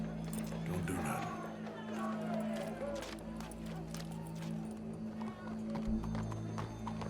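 Horse hooves clip-clop steadily on the ground in the Red Dead Redemption 2 game, mid-distance, over a steady low hum and ambient game sounds.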